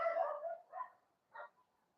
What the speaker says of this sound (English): Are the dogs barking in the night?